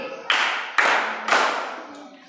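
Three distinct bursts of group clapping from children in a rhythmic clapping game, each sharp onset decaying away, spaced about half a second apart with no speech.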